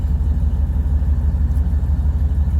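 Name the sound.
Ram 1500 pickup with catless headers accelerating from a stop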